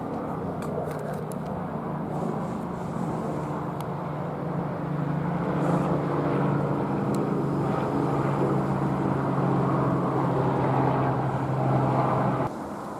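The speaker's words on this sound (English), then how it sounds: "you can hear the ever louder hum of the helicopter" A steady low helicopter engine hum grows gradually louder and nearer near an RV before cutting off near the end.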